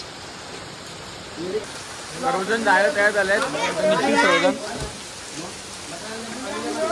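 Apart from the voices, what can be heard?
rain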